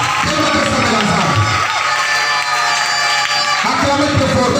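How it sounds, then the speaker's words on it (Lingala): A church congregation cheers and applauds loudly, a dense wall of shouting, whooping and clapping that briefly thins before surging again. "Acclamez très fort pour la gloire du Seigneur."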